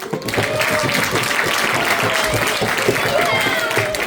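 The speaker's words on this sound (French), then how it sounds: "Merci à votre public pour vos applaudissements" Concert audience applauding in a hall, dense steady clapping filling the whole stretch with crowd noise and some voices mixed in.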